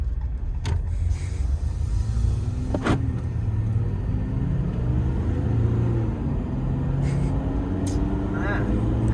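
Ram 1500 EcoDiesel 3.0L pickup on 35-inch tires being driven, with a steady low engine and road rumble heard from inside the cab, a few sharp clicks, and occasional voices.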